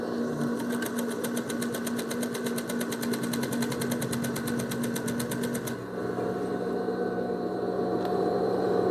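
Sewing machine stitching a gathered fabric skirt, a fast, even run of needle strokes for several seconds before it stops and a duller steady hum carries on.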